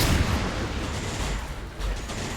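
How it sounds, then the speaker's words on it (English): Dense, continuous gunfire from a sci-fi tactical strategy game's battle, a steady roar of overlapping shots and booms with no pauses across the whole stretch. "Bullets just flying everywhere."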